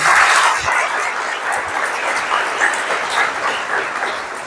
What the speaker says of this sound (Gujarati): એકવાર જોરદાર તાળી મારા બંને